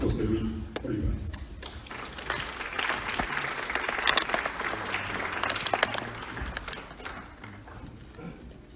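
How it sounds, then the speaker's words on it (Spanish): A seated audience at a Spanish-language forum on aging and mental health applauds to welcome a doctor, steady clapping filling the whole stretch with a few louder claps standing out. "Les pido un aplauso"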